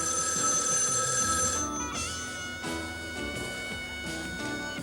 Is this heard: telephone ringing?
yes